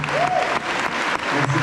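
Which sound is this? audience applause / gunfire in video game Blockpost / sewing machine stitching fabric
audience applause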